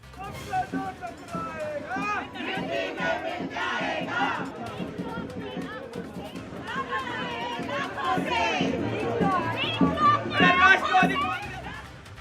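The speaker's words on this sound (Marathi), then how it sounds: "राष्ट्रवादी प्रदेश कार्यालयाबाहेर कार्यकर्त्यांनी एकत्र जमून जल्लोष केल्याचं पाहायला मिळालंय।" Crowd of NCP party workers chanting and cheering outside the party's state office after an assembly election win, a dense, loud roar of voices and slogans that holds steady for the whole stretch.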